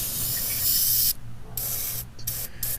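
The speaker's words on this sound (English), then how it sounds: "I'm just going to spray the entire outside and then the inside as well." An aerosol can of engine degreaser sprays onto the outside of a Veloster's parts in a loud, close hiss, then breaks into several shorter bursts with brief gaps.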